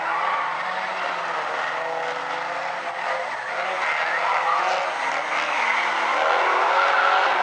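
Stinger 8 race cars run a 20-lap main event championship race at South Sound Speedway, a loud, steady roar of engines and tire noise holding near-constant intensity throughout, swelling slightly toward the end.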